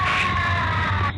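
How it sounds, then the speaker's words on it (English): A steady, high-pitched scream holds unbroken through dark home video footage, sounding distant and somewhat muffled over a low background hum before cutting off abruptly. "in the background we can hear some screaming"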